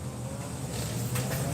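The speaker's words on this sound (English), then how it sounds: "Pardon the street noise, I have my slider open" Street traffic coming in through an open sliding door, a steady low car rumble with a passing vehicle swelling briefly, moderately distant.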